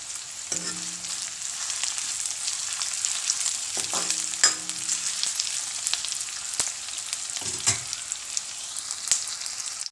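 Food sizzles steadily in a hot pan, a constant crackling hiss, with a few soft knocks of a spoon stirring now and then.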